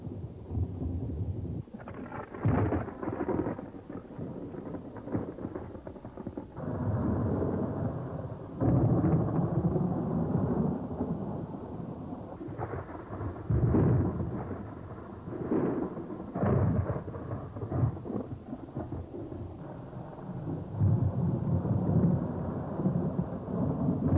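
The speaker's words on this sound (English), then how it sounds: "when black clouds pile up and the wind blows, wise boaters find shelter and watch the storm from the shorelines." A thunderstorm over Lake Powell in the Glen Canyon desert, with deep rolling thunder rumbling repeatedly over steady rain, the booms swelling and fading across a long stretch.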